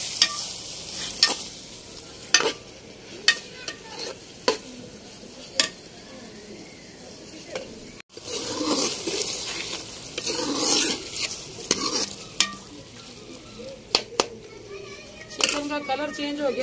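Chicken mince sizzles as it fries in a pan of softened tomatoes and turmeric, with repeated clacks of a spoon stirring against the metal, and a voice heard faintly.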